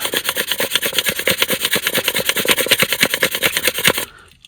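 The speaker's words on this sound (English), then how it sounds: "I'm doing this with the thinnest sandpaper that I found" Fine sandpaper rubs back and forth on a 1:64 die-cast Chevy Tahoe in a steady, fast rhythm of loud, close, raspy strokes that stops abruptly near the end.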